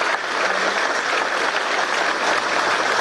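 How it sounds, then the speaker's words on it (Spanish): Sustained applause from an audience at a formal presentation honouring a criminalistics unit, dense and steady from start to finish with no talking. "Yo quiero un aplauso para esta unidad"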